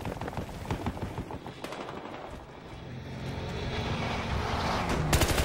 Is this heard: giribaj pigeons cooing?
no